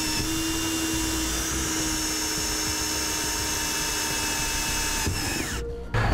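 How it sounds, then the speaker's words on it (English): Steady high-pitched whine of a power drill with a small pilot bit drilling through the firewall of a 2000 Toyota Sienna, close by, ending with a brief pause and a small clunk. "we'll take a small pilot bit, drill it through the firewall"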